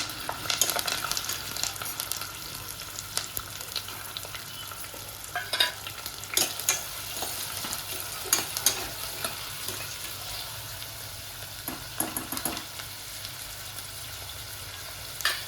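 A large, thinly sliced onion frying in oil in a pan for capsicum masala curry, a steady sizzle with scattered stirring scrapes and crackles throughout, close and moderately loud, no talking.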